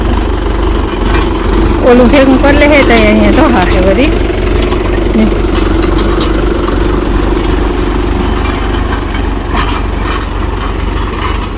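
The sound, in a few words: tractor engine running in a field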